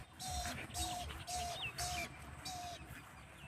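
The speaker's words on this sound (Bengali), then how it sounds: "পাখির ডাক শোনা যাচ্ছে।" A bird near the Ichamati river calls in a steady, repeated rhythm, five or six clear notes spaced about half a second apart, moderately close over a soft hiss of background ambience.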